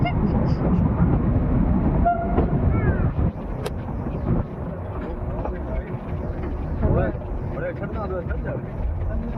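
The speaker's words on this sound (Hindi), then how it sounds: "तो गैस ये होता है ट्रेन जर्नी का मजा," Meter gauge passenger train climbing through the monsoon hills of Goram Ghat, a steady loud rumble of wagons and track noise filling the whole stretch, with faint voices mixed in.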